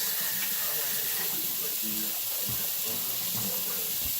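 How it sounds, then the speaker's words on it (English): Tap water runs steadily into a sink during handwashing in a home kitchen, a continuous broadband hiss with a few faint clinks and splashes, fairly close and alone. "Wash your hands."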